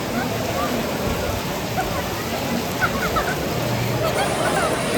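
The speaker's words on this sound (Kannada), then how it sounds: "ಕೊನೆಗೂ ಮಳೆ ಬಂದೇ ಬಿಟ್ಟು" Rain falls steadily at a temple, a dense even hiss of drops on surfaces with faint background voices beneath it.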